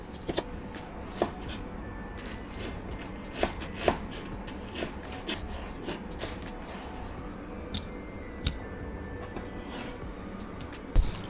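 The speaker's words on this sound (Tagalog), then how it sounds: "kakatapos lang natin i-slice yung beef natin at baka gawin natin tong tapa" A knife slices raw beef for tapa on a board in steady, irregular cuts. Sharp taps and scrapes sound close and distinct over a quiet background.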